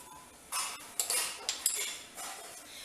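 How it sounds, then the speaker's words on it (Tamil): A metal pressure cooker lid is fitted and closed on the cooker while moong dal rice is being made, giving a few faint, close metallic clinks and scrapes over a quiet kitchen background. "நம்ம வந்து குக்கரை மூடலாம்"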